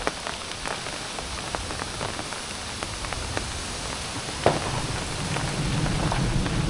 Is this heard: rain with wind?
yes